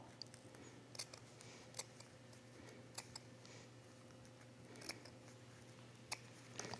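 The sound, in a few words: scissors cutting a circle in fabric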